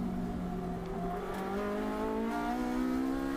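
A 4,400cc race car engine revs hard at the Portimao circuit, its pitch climbing steadily as it accelerates, loud and close as if heard from on board.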